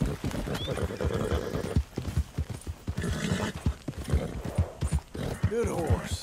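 Hooves clip-clop and a horse whinnies in Red Dead Redemption 2, the black mare Belle in a gunslinger side quest, close by and steady, with a voice talking gently over the hoofbeats.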